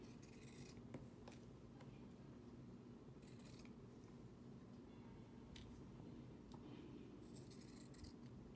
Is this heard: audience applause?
no